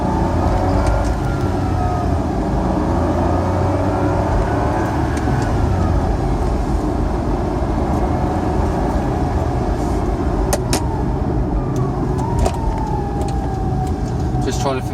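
An original Smart City Pulse car with a small engine pulls away in first gear, a steady close engine drone with road noise and a few sharp clicks, and a voice talking over it.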